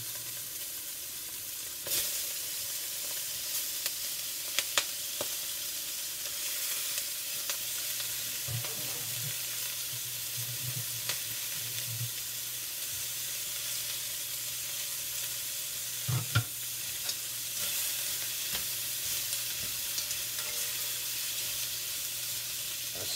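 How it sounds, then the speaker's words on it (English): Onions sweating and a pork roast searing in a pan for milk-braised pork, a steady close sizzle and frying hiss with occasional stirring clinks, no talking. "So I'm just looking to sweat the onions off, get the other side of this roast caramelized a little bit."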